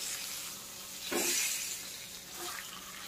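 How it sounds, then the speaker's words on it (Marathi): Fish fry sizzling in a pan over medium gas, a steady broadband hiss of frying oil throughout with a brief louder crackle near the middle, no voices. "आपण बघताय आपला फिश फ्राय आता होत आलेला आहे."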